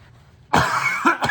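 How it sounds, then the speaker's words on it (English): A single sharp cough from a person with a throat cold bursts out after a quiet start, followed by a couple of shorter throaty coughs, close and fairly loud. "Getting over a cold, or a kind of a throat cold, so excuse the cough"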